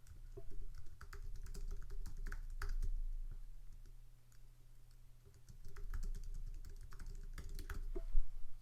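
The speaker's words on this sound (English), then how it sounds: "So I can click on this and I can type over it." Rapid, irregular taps and clicks of a computer keyboard being typed on, close and fairly quiet over a low steady hum, with brief pauses between bursts.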